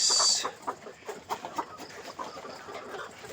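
A flock of about 200 ready-to-lay hens clucking and murmuring in a pen, soft irregular clucks close by, with a brief high hiss at the start and no talking.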